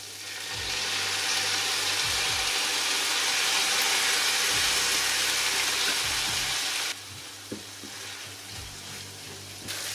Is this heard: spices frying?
yes